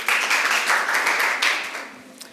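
An audience clapping in applause during a quiz show on Babasaheb Ambedkar and the Indian Constitution, a steady dense patter that swells then fades over a couple of seconds.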